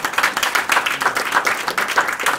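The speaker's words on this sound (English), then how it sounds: "A big round of applause for Soren." A small conference audience claps in a brisk, uneven rhythm, close and fairly loud, sustained for a couple of seconds with no talking over it.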